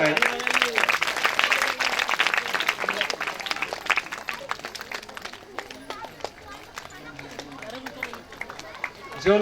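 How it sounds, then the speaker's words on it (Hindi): An audience at a community trust blanket-distribution event claps, loud dense applause early that thins into scattered claps while someone speaks over it. "आप लोग ताली बजाते रहे भाई।"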